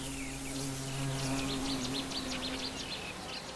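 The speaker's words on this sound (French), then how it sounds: "C'était un frelon à pattes jaunes" Yellow-legged hornet, the Asian hornet, buzzing steadily nearby in a low, droning hum that holds for several seconds, with faint bird chirps in the background.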